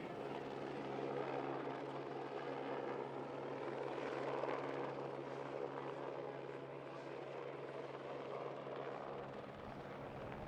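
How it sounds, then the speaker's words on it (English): A Lockheed C-5 Galaxy (C-5A) flies by at an air show, its engine drone a steady, broad roar that holds at moderate loudness for about ten seconds with no talk over it. "Look at that big silhouette,"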